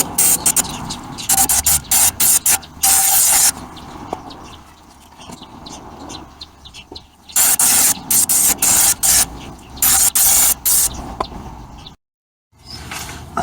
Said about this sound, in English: Got some brake cleaner here which will help remove a lot of the oil.